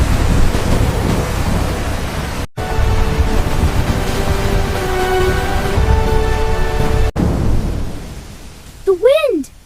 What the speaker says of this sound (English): This storm is stronger than anything I've ever seen.